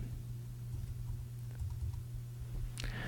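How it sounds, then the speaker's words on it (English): Soft typing on a computer keyboard, a steady patter of light keystrokes with a slightly louder clatter near the end, fairly quiet over a low background hum. "while I'm typing this on my other monitor"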